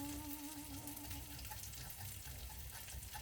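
Chicken frying in a pan gives a soft, steady sizzle at low volume. A faint tonal hum fades out early on, and no one speaks.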